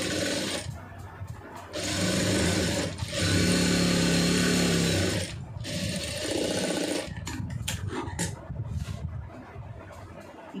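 A sewing machine stitching fabric hums in several bursts, with a sustained loud run in the middle and choppier, quieter stitching afterwards.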